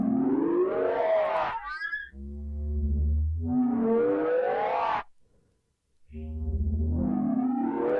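Lingering reverb tail from a Cubasis 3 session continuing after playback is stopped: swelling, echoing tonal washes with ringing harmonics that fade out, go briefly silent, then swell back in, fairly faint and without talk.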